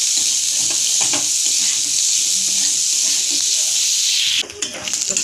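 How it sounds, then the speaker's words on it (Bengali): Chopped onion sizzles loudly in a pan with ginger and garlic, a constant bright hiss that drops briefly near the end as the food is stirred. "তো পেঁয়াজটা দিয়ে ভালো করে আমি ফ্রাই করে নেব।"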